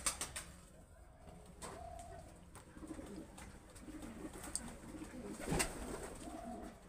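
Faint cooing from a pair of Dabwale pigeons drifts in a few times over a quiet room, soft low murmurs with occasional clicks and rustles.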